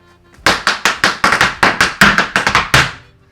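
Irish dance hard shoes strike a floor in a back treble into a bang tip diddly, hopping off the toe: about a dozen sharp, loud, close taps in a fast, driving rhythm, then a final stamp.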